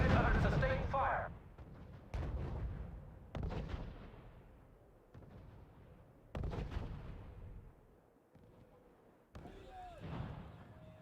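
Bursts of gunfire and booming artillery shots in the wartime strategy game R.U.S.E, arriving in several loud separate blasts with decaying tails, while radio-style voice reports play over the combat.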